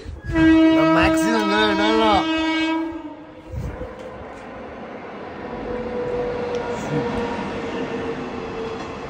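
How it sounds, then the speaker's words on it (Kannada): A train horn sounds loudly for about two seconds, then the rumbling roar of the train passing continues steadily at moderate distance. "ಹೀಗೆ ನಮ್ಮಲ್ಲಿ ಟ್ರೈನ್ ಬರುತ್ತೆ"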